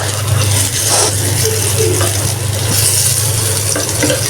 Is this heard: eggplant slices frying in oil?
yes